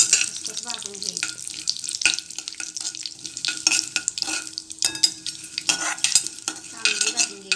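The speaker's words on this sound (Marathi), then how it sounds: "खसखस भाजून घ्यायची." Poppy seeds roast in ghee in a pan on low heat, crackling and sizzling up close while a spoon scrapes and stirs in quick irregular strokes throughout.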